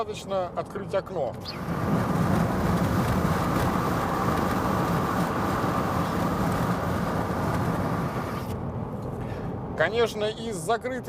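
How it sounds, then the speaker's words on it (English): Broad roaring wind rush through an open car window while driving, a steady loud whoosh lasting several seconds between stretches of talking at the start and end. "Aerodynamic noises or the well-known wind whistle."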